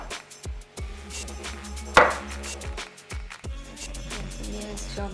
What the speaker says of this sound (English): I think you've chopped quite a bit.